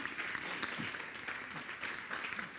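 Worshippers at a church service give a round of applause, a faint, even patter of clapping with occasional louder claps and a low voice or two beneath.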